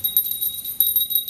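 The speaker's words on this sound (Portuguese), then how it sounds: "ativa aí o sininho" A bright notification bell chimes in a quick series of light, high tinkling rings, clear and close with nothing else around it.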